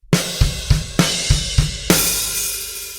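A drum kit plays repeated three-note groupings of kick and snare under bright cymbals. Then an open hi-hat and snare hit rings out and sustains with a hiss, loud and close, with no talking.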